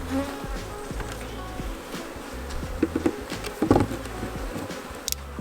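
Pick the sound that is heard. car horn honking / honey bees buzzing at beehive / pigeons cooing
honey bees buzzing at beehive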